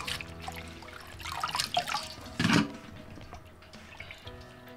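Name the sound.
washing magenta plant leaves in water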